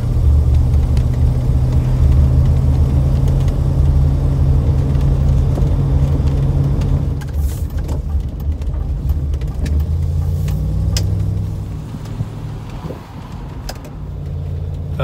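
A Triumph Stag out on a test drive, its engine drone and road noise steady and loud from inside the cabin, easing slightly partway through, with no talk.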